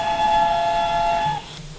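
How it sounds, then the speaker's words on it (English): A steam locomotive, a 4-4-0, sounds its two-tone Great Western style whistle in one sustained blast of a bit over a second, then cuts off abruptly, leaving low engine rumble. "Two-tone whistle, Great Western style"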